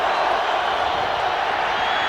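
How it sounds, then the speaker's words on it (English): A steady, roaring stadium crowd cheers at a 1998 NFL game between the San Francisco 49ers and the Buffalo Bills in Buffalo; a sustained wash of distant voices holds at an even level throughout. "The crowd gets into it."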